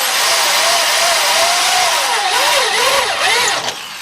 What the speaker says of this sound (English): drilling out the pinch welds work really well, especially when you got a nice sharp step bit